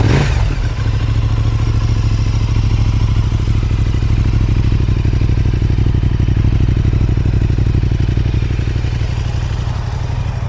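An Aprilia RS660 motorcycle with an Akrapovic full race exhaust idles and holds steady at close range, a loud, even, throbbing drone with a buzzing low pulse after a short start.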